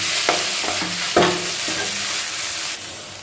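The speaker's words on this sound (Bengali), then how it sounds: "এবার এটাকে একটু ভালো করে নাড়াচাড়া করে নেব" Vegetables with chili powder for egg chicken chowmein stirred in a hot pan, continuous close sizzling punctuated by several spatula scrapes and taps against the metal.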